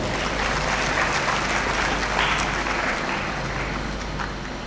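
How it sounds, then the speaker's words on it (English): Graduates and guests at a university congregation ceremony applaud, a loud, even wash of clapping from a large crowd that holds steady and tapers slightly at the end. "A resounding round of applause is well deserved to all of you."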